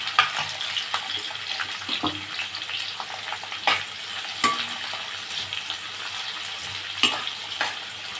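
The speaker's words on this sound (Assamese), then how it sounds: "এইখিনি ভালকৈ লৰাই লৈছোঁ" Bay leaves and onions frying in a pan, a continuous sizzle broken by occasional louder knocks and scrapes of stirring.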